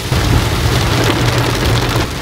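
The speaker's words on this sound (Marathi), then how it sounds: "बघा ना, आता पण इतका मुसळधार पाऊस पडतोय." Heavy monsoon rain pours steadily on a rural road near a dam outside Panvel, a dense, loud, continuous hiss with a low rumble underneath and no voices.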